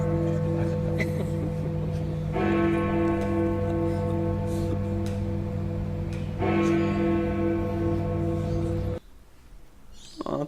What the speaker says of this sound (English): Who wants to hear that bell again?